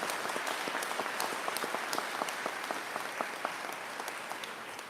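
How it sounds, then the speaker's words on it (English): A crowd applauds at a fire rescue station grand opening, with a moderate stretch of clapping where individual sharp claps stand out near the microphone over the general patter, tapering slightly toward the end. "Give him a round of applause"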